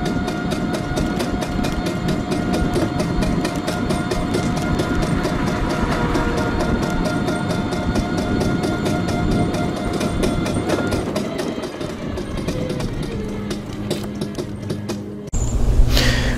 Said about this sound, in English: There is a clicking noise. You can hear while I was testing the scooter.